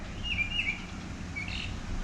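Birds chirp in a garden on a hot summer morning, a few short high tweets in two small bursts, fairly faint over low outdoor background rumble.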